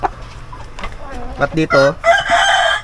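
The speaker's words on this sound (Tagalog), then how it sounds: "palaki na ng palaki yung isang manok natin no" Pet young stag chickens crow and cluck up close, several loud harmonic calls in a row, with a person speaking briefly in between.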